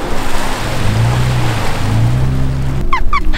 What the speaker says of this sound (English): Amina's gonna speed through the water